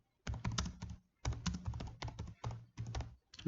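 Rapid bursts of computer keyboard typing while C code is entered, loud and close, with short pauses between runs of keystrokes.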